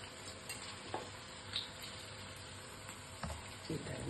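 Bajji batter is lowered into hot oil, giving a quiet, continuous frying sizzle with a few soft taps and clinks of a utensil.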